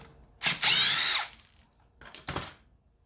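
A power tool with a 17 mm socket spins off a strut's center nut, giving one loud, whining burst of about a second, followed by a few shorter, quieter bursts and clicks.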